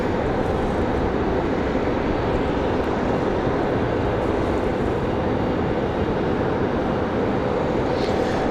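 An SAS Boeing business jet departing Raleigh-Durham International Airport at night gives a continuous loud, broad engine roar that holds steady and heavy throughout, with no voices.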